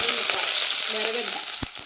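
Mustard seeds and fenugreek sizzling in hot oil for brinjal pulusu, a loud steady frying hiss with a few sharp pops and a faint stir near the end.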